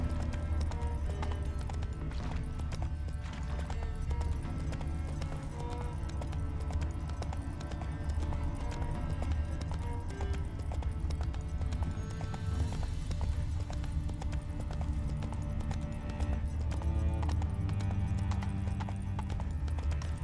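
Roach the horse clip-clops steadily in The Witcher 3, a continuous rhythmic patter of hooves carrying on throughout over low ambient game music.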